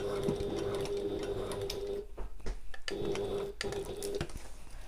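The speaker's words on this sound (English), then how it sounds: "just take a little couple of stitches, pivot and carry on as normal" A sewing machine runs in steady bursts of stitching on a pocket, pausing briefly twice as the needle stops and the fabric is pivoted before it carries on.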